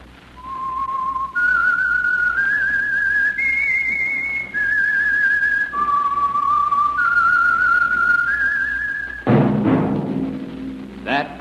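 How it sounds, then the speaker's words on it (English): A person whistles a radio mystery theme tune, a clear, loud melody of held notes stepping up and down, which ends in a burst of orchestral sound. "That whistle is your signal for the Signal Oil Program, The Whistler."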